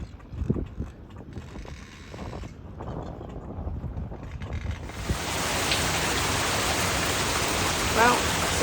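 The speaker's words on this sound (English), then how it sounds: "It's a very wet day. It rains a lot out here on Palmyra Atoll" Rain falls on Palmyra Atoll, first as a softer patter with scattered drops and some background activity, then swelling into a steady, loud hiss of heavy rainfall close by.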